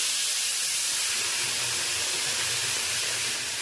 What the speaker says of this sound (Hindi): तो तेल डाल दे रहे हैं।